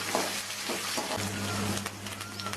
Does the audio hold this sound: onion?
yes